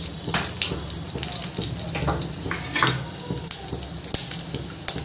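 Mustard seeds and fenugreek spluttering in hot oil while tempering for vendhaya rasam, a dense, steady crackle with sharp pops close by, mixed with brief background clatter.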